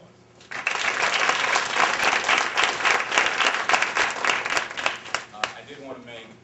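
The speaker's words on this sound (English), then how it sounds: "I think that these inductees deserve another round of applause." Sustained applause from an induction ceremony audience, a dense wash of many hands clapping that swells quickly, holds steady and thins out near the end.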